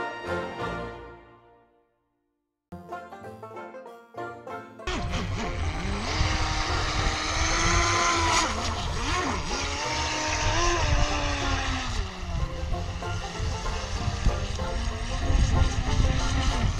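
A small RC motorboat motor whines up after a brief pause, then runs loud and steady at high revs, its pitch wavering as the toy boat speeds along.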